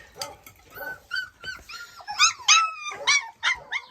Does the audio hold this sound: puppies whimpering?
yes